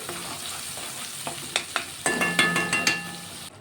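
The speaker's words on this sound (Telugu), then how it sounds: "ఈ పేస్ట్ అంతా కొంచెం ఫ్రై అవ్వాలి" Masala paste for egg curry fries in a pan with a soft sizzle. A spoon stirs through it and then taps the pan in a quick run of sharp clinks near the end, close up with no talking.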